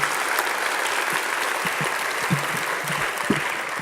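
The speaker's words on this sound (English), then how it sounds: "Give them a big round of applause." A crowd at a school district board meeting claps steadily for the board, a full continuous patter of hands with a few faint voices murmuring underneath.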